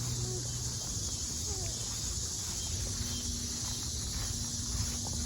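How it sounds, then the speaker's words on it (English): A cricket chirps outdoors at night during a nature walk with a constant high insect trill, steady and moderately loud, set over faint background noise and soft footsteps. "Chirping. Oh, that's a cricket."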